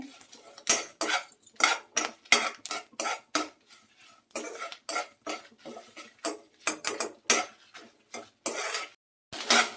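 Coriander seeds being dry-roasted in a pan over a low flame, stirred with a spoon in a rapid run of sharp metallic scrapes and clinks, close and clear with no talking.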